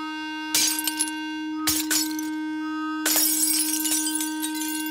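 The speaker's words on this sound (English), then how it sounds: "The vibrations were so strong that the glass literally shook itself to pieces." A delicate wine glass shatters as strong sound-wave vibrations shake it apart, a steady loud tone running underneath while three bursts of breaking, crunching glass crash in close and loud.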